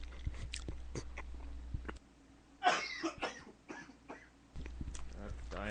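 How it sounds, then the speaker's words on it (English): A person coughs a few times, clearing something caught in the throat, close to the microphone; other voices talk before and after. "I just got something in my throat that's causing me to cough."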